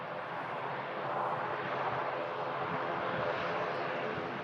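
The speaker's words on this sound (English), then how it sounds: "The prop coming in from Dublin there, following 46 minutes of flight time" A propeller airliner arriving from Dublin drones steadily overhead, a broad even engine roar at moderate distance holding constant for the whole stretch.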